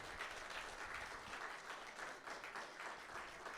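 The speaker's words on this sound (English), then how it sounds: "let's go and give Jim Rugg a round of applause, right?" Steady audience applause for comic artist and author Jim Rugg at a literary author interview event, a dense, even wash of many hands clapping, fairly soft and distant, with no voices over it.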